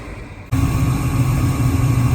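Gas furnace starting up with its blowers and burner flames running: a brief quiet hiss, then a sudden steady low roar and hum that carries on evenly, close by.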